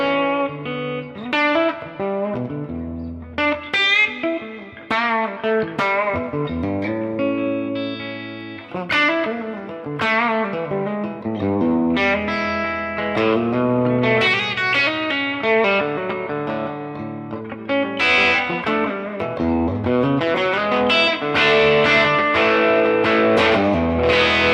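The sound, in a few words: electric guitar through Fractal cab block with room reverb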